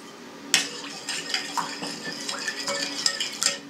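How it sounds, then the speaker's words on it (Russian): A utensil stirring a yeast mixture in a bowl for bread dough, with close, continuous scraping and clinking of metal against the dish, lively and uneven, with no talk. "Хорошенько перемешиваем дрожжи"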